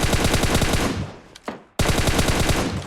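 Rapid bursts of automatic gunfire in the video game PUBG Mobile, loud and sustained, broken by a brief pause before another long volley resumes.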